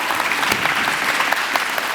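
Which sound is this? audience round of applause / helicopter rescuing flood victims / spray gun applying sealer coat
audience round of applause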